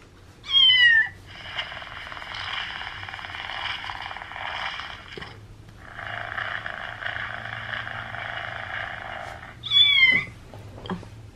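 A kitten meows in short, high, close bursts near the start and again near the end, with a steady mechanical hum running underneath between the calls.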